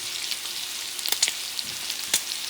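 Shrimp frying in a pan with thyme and aromatics, a steady broadband sizzle with a few sharp pops and crackles, close and continuous, with no voices.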